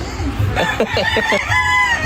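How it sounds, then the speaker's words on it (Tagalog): An imported American rooster at a Philippine breeders expo crows once, loud and close, a rising then stuttering call over busy crowd murmur. "nakahawa ko ng manok galing Amerika"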